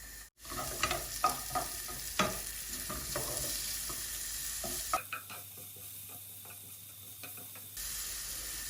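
Onion, green chilli and garlic frying in mustard oil, a loud continuous sizzle with frequent scraping stirs, close up, the hiss briefly thinning midway before returning.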